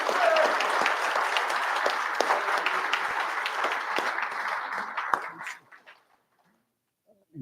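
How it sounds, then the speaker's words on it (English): An indoor audience at a Vietnam veterans day celebration applauds the chaplain, steady clapping for about five seconds that thins out into a few last claps and then silence. "Could you give a round of applause,"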